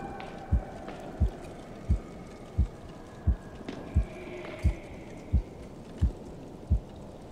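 Heartbeat in the game Medusa's Labyrinth, a steady series of about ten deep, close thumps spaced evenly under a faint low hum, with no talk.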